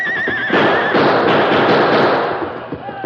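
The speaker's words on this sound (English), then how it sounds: "the masked man reined the great horse Silver into a spinning turn" A horse whinnies loudly up close, a high wavering neigh, followed by a burst of rough noise and scattered thuds, in an old radio drama.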